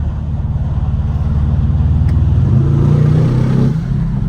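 An Aston Martin DBX S SUV pulls hard in fourth gear, its engine note rising steadily with a rumbling, pulsing exhaust heard from inside the cabin, loud and continuous.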